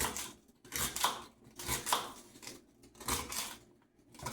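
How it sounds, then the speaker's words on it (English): A knife cuts up red skin potatoes for potato salad, giving several crisp chopping strokes at an uneven pace close by, each followed by short quiet gaps, with no speech. "So I'm going to cut this up."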